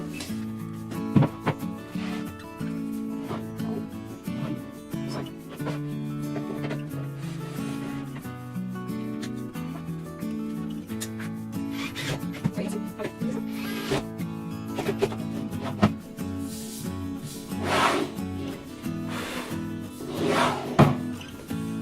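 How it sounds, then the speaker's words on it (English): An IKEA Alex drawer sliding into its assembled base unit, with soft rubbing, scraping and knocking of the drawer runners and wood-like panels, close and moderate in level, in bursts across the clip with brief talk. "There you go, one drawer in."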